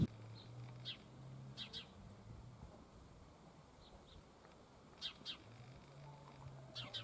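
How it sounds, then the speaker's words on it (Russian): Sparrows chirp in short, faint bursts from a distance in a village garden, with soft broadband background noise between the calls. "воробьи как поют, там чирикают"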